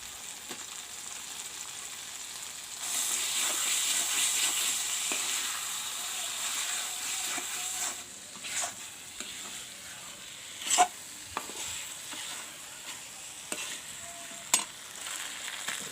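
Peeled potatoes sizzling and frying in a pot for snail curry, with steady hiss under occasional stirring clinks and scrapes, louder in the middle then settling into quieter sizzle with sharp utensil knocks.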